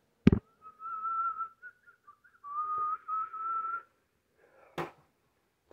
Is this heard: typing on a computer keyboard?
no